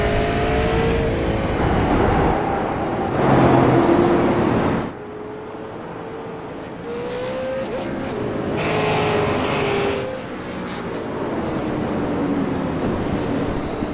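Super late model stock cars roar around an oval track at night, engines rising and falling as cars pass, loud and continuous with shifting pitch, no talk over it.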